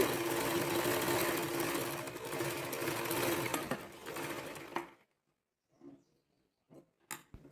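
A sewing machine runs steadily for about five seconds while stitching the back panel of a box pleat skirt, then stops, leaving only a few faint handling sounds of fabric.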